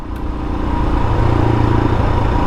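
A 2022 Royal Enfield Himalayan motorcycle engine-brakes with a loud, close, steady low drone that thickens slightly partway through and keeps rumbling evenly to the end.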